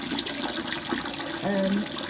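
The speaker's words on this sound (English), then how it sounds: "I don't know if you can actually hear me out of this running water" Tap water runs into a sink during a morning bathroom routine, a steady close splashing rush, with a brief rising tone near the end.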